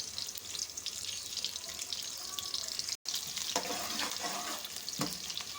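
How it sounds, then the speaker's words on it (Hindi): Chopped onions with fenugreek seeds and nigella seeds hit hot oil for an achari qeema and cluster bean curry. A loud, continuous close sizzle crackles throughout, with stirring scrapes and clinks toward the end. "इसमें हम प्याज डालेंगे सबसे पहले, और साथ ही में ये मेथी दाना और कलौंजी।"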